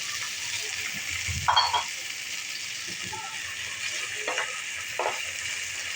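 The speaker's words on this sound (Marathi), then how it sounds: "तेल गरम झालं आपलं की ह्याच्यामध्ये आपण हे मटर थोडेसे भाजून घेऊया" Green peas frying in hot oil for a dhaba-style matar paneer curry, a steady broadband sizzle with a few louder bursts of stirring and clatter, with no talk.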